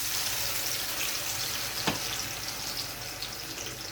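Mustard paste, poppy seed and green chilli fry in oil seasoned with black cumin, a loud continuous close sizzle with one brief knock of a spoon.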